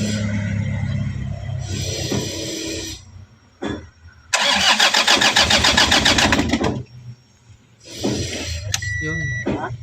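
A Toyota Hiace with a 2KD diesel engine, left unused for seven years, cranks repeatedly without catching: a loud, steady starter churn of about two seconds, then a pause and a second long crank, with talk and background noise in between.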